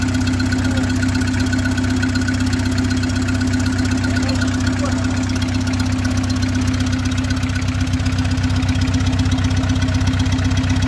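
A Citroën C15 engine with a freshly swapped turbo runs steadily, a continuous low idling drone with a faint knocking rhythm throughout, close by and fairly loud.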